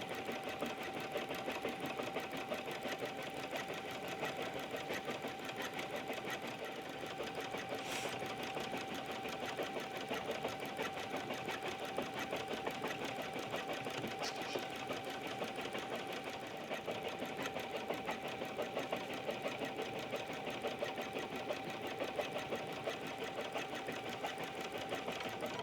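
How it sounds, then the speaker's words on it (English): A computerized embroidery sewing machine stitches out a butterfly design for a quilted vest, its needle whirring in a fast, even, continuous rhythm that is moderately quiet and runs on with no one talking. "So we'll stitch out the whole embroidery design, and then we'll switch over to sewing"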